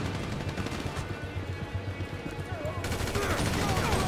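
Dense, rapid gunfire from a GTA 5 modded military battle crackles almost continuously in loud, overlapping bursts, with a voice talking over the shooting.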